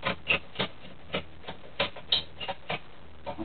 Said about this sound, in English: And then you just crank up a couple of screws